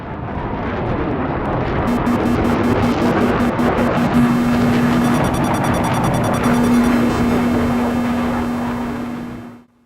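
Rapid repeating electronic missile-warning beeps in a Battlefield 3 jet pulse over a loud, steady jet roar, quickening into a continuous warning tone before the noise cuts off.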